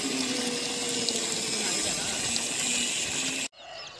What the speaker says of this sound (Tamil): சேரும் சகதியுமாக தான் வந்துக்கிட்டு இருக்கு.